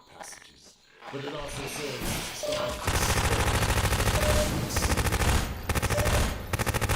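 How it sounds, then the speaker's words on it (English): Rapid bursts of SMG fire in the video game Half-Life 2: Episode 2, a loud continuous rattling stream that cuts off and resumes, following a stretch of rougher sounds. "Why does my SMG suddenly sound different?"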